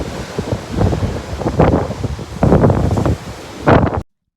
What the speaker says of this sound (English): the wind was the only thing I could hear